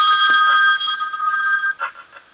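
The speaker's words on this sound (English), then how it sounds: "I am able to log in and answer the call from my cell phone" A cell phone rings with an incoming customer call on a Cisco Finesse mobile agent setup, a loud, steady electronic tone that cuts off near the end, followed by a few faint rustles.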